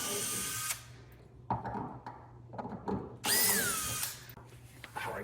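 A power drill with a socket in its chuck, used to remove fasteners while taking apart a player piano mechanism, whirs in several short bursts, one longer high-pitched run standing out, with pauses and handling noise between.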